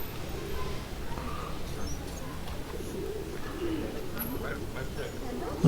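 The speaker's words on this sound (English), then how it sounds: "A lot of pigeons as well." Pigeons cooing amid the ambient hum of Patan Durbar Square, the ancient royal palace courtyard of the Malla kings in Lalitpur, Nepal; soft, low coos rise faintly and intermittently over a steady outdoor background.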